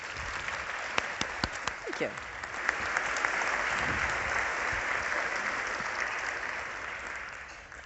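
An audience applauds an author at a crime-writing talk. The clapping is loud and sustained, swelling after the first seconds and running the full length, with a few sharper claps early on and a brief voice speaking over it.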